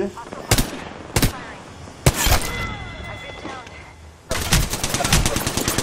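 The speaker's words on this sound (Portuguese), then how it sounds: "tiro pegando em você." Gunfire in Apex Legends on Xbox One, with sharp close bursts and single shots, a stretch of quieter rattling, then dense rapid automatic fire to the end.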